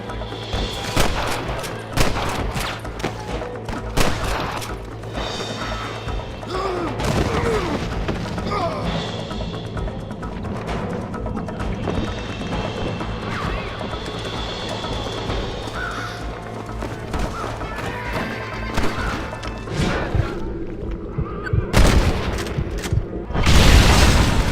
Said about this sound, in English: Good shooting, boy! Swatting rustlers like flies!